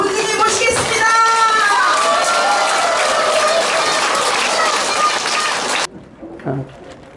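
A crowd at a Saturday lecture bursts into loud, dense applause for nearly six seconds, with voices and cheering mixed in, then it cuts off abruptly, leaving a little faint talk.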